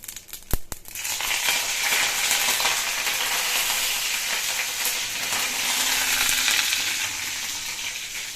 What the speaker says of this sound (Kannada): ಸಾಸಿವೆ ಹಾಕಿ ಸಾಸಿವೆ ಎಲ್ಲ ಸಿಡಿದ ಮೇಲೆ ಕರಿಬೇವಿನ ಸೊಪ್ಪು ಹಾಕ್ಬಿಟ್ಟು